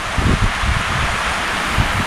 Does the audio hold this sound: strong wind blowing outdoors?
yes